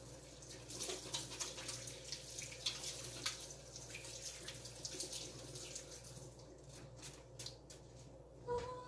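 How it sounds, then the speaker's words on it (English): A kitchen tap runs while hands are washed under it, a soft, steady splashing with small clatters, heard fairly faint and up close, before a brief louder splash near the end. "Wash my hands."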